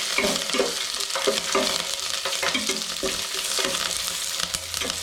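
Two slit green chillies fry in hot oil for a pepper chicken dry, a continuous close sizzle broken by stirring scrapes and occasional pops, with no speech.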